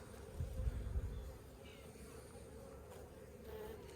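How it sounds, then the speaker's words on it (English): Honey bees buzz at a hive among mostly capped honey frames, making a faint, steady insect drone that swells briefly near the start and then settles into a low continuous hum. "You want to get a close up of this little bee."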